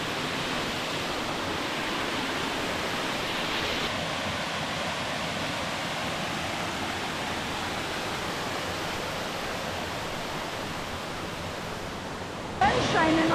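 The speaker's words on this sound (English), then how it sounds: "we made it back to Sidewinder Falls" Sidewinder Falls on Bear Creek in Arkansas rushes in a steady, broadband roar close by, constant throughout, with a brief louder splash or shift at the very end.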